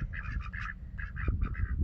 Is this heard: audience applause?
no